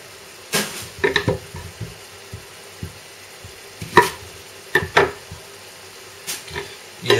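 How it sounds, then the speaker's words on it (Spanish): Knife chopping the white part of a leek on a cutting board, a handful of sharp irregular thumps and cuts in small clusters, close and fairly loud against a quiet room. "Del puerro cortaremos solamente la parte blanca"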